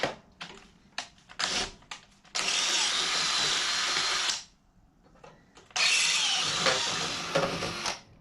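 A power driver sinks screws to mount an extended jiffy stand on a 2008 Harley-Davidson Sportster 883 custom. Short stuttering bursts give way to two long, loud whirring runs, close up with no talk.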